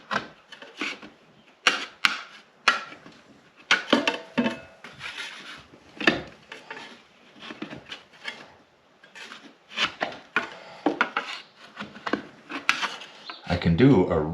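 A putty knife scraping dried drywall joint compound off a loft wall, giving repeated short rasping strokes with pauses between them, close and moderately loud.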